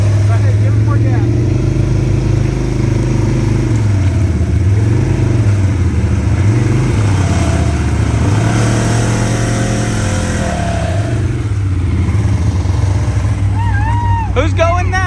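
A CFMOTO ZForce 950 UTV engine revs hard on dirt, a loud rising and falling drone close by, with people talking over it throughout.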